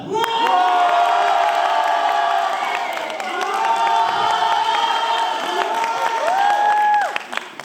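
A crowd at a live dance show cheers, whoops and shouts for a dancer. The din is loud and sustained, with shrill voices over a dense roar that drops off sharply at the end.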